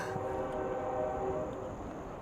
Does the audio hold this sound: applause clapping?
no